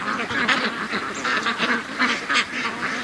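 A free-range pet duck quacks repeatedly at close range, a busy run of nasal calls over outdoor background noise.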